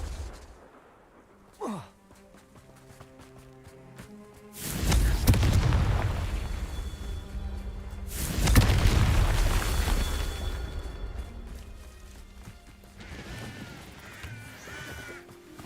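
Two heavy booming blasts of the Confringo fire spell in Hogwarts Legacy, each a loud rumbling burst that fades over several seconds, preceded by a brief caw-like call and quiet ambience.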